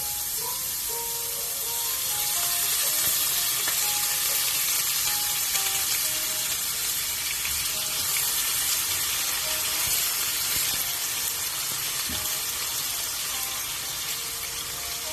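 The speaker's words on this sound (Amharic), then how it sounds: "አሁን ትንሽ ካሞቅነው በኋላ ሽንኩርቱን የምናረገው ዘይት ነው።" Onions fry in oil in an iron pot with a constant, fairly loud sizzling hiss that runs unbroken and close.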